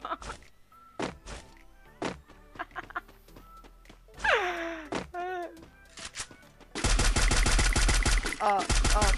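Rapid gunfire in the Free Fire battle royale game, sharp clustered shots scattered throughout and a dense sustained burst at the end, mixed with game sound effects and players talking over it.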